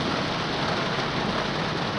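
Heavy rain pours down steadily during a June storm with standing water on a driveway, a dense, loud, continuous hiss with no break and no voices.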